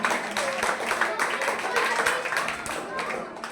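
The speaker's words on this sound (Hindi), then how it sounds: "इसलिए जोरदार तालियां।" A coaching class group claps loudly for a student's exam result, a brisk, dense round of applause lasting several seconds with voices mixed in.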